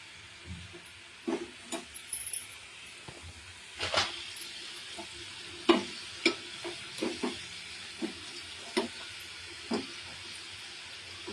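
A moong dal sweet mixture cooks in oil, a low soft sizzle under a string of irregular stirring knocks and scrapes from a utensil, close but fairly quiet.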